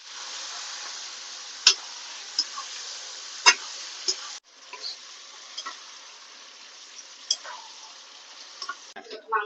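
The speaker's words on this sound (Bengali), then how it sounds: "মশলা ভাজা হয়ে গেছে, এখন মাংস দিয়ে দিচ্ছি।" Mutton fries in a sizzling spice masala of onion, ginger paste, garlic paste and green chilli for a Bengali mutton curry. A steady close hiss carries occasional sharp spatter pops, with a brief break midway before the sizzle resumes.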